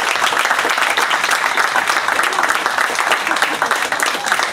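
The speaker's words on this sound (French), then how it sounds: "Je pense à une bonne main d'applaudissement." Crowd applause at the inauguration of a street, a lively outdoor gathering clapping continuously and loudly, with a faint murmur of voices beneath the dense patter of hands.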